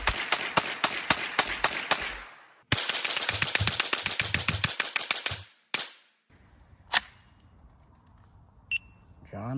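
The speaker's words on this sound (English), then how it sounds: "It's a North Korean AK." Rapid automatic bursts from a North Korean AK rifle at an outdoor shooting range, two loud close strings of rhythmic shots followed by a couple of isolated single cracks and a short electronic beep.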